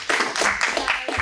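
Brief hand clapping at a school district board meeting, a quick run of close, loud claps lasting just over a second.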